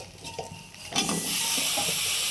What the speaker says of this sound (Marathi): आता शेंगा टाकते.